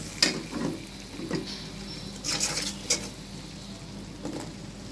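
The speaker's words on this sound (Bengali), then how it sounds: "তেলে মশলার সাথে শুটকিগুলোকে এখন কষিয়ে নিব 2 মিনিটের জন্য" Dried loitta fish sautés in oil with spices, giving a low crackling sizzle broken by several short stirring scrapes and taps.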